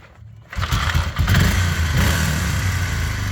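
A Suzuki DR500 Dakar motorcycle engine starts after a quiet moment, briefly revs, then settles into a steady, close, throbbing idle.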